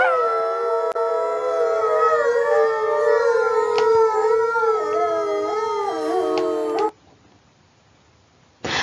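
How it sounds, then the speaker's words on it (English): A recording of wolves howling in overlapping, wavering, sustained tones, several voices layered loudly together, then a brief quiet gap before the sound resumes. "That was the wolves that you just heard"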